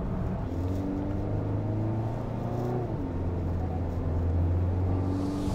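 A Volkswagen Atlas SUV's small 2-liter engine smoothly revs upward through gears, a steady humming drone rising and dropping in pitch with each shift, heard from inside the cabin.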